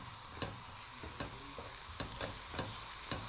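Vegetables stir-frying in a pan for a nasi goreng black pepper beef stir fry, a steady close sizzle broken by regular spatula scrapes and clacks roughly every half second, with no talking.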